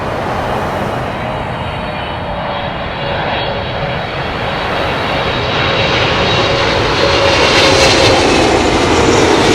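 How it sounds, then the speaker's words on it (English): British Airways Boeing 777-300 inbound from Washington on approach to land at London Heathrow, a loud, close, continuous jet engine roar that swells slightly toward the end. "British Airways, big Boeing, 777-300, and that is coming in from Washington."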